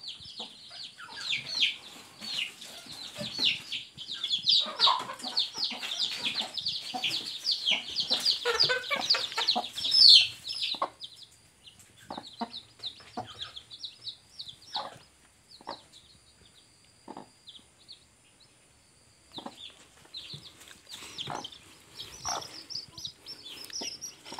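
Locally raised domestic chickens cluck and chirp in busy, overlapping bursts close by for the first ten seconds, then thin to sporadic calls and soft peeps against quiet.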